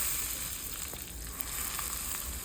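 Chopped onion, green chilli and curry leaves sautéing lightly in oil for appe, a soft, steady sizzle with faint crackles, quiet and close, no voices.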